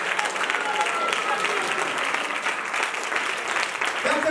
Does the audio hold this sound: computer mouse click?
no